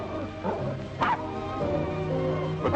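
A dog in a 1950 crime film barks and whimpers, giving a short yelp and then whining cries, fairly close and clear.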